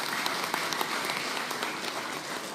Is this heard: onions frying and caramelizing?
no